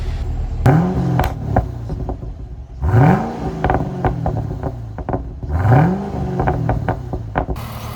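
A throaty supercharged LSA V8 in an HSV car with stock exhaust revs three times in sharp bursts, each climbing quickly and falling back to a lumpy rumbling idle between blips.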